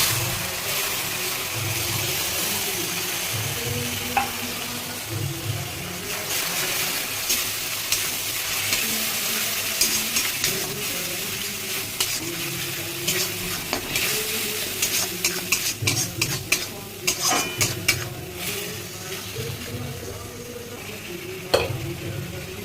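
Onions and masala paste sauté in a pan for rajma, a steady frying sizzle with repeated stirring scrapes and spoon clinks against the metal, sharper clatters building toward the end.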